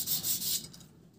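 Coarse 40-grit sandpaper rubs rust off a metal file in a few quick strokes, a dry close scraping that fades out after half a second.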